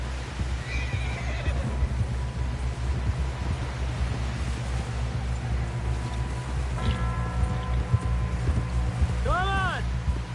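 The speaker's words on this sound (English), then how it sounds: "Someone help John down off this horse" A horse whinnies loudly near the end over steady clip-clop of hooves and wind, with a brief shout partway through, in the video game Red Dead Redemption 2.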